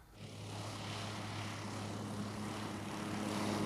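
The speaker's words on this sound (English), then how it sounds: "A police airplane takes off to join in the investigation." A police propeller airplane takes off for an anti-poaching search along a border. Its engine drones steadily and builds gradually in loudness as it powers up.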